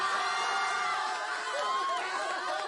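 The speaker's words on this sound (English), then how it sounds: "Sounds like they're laughing. There's some cheers in there." A large crowd's continuous cheering and excited voices, a dense, steady roar with some high shouts and laughter mixed in, sustained at even loudness throughout, with no single clear voice above it.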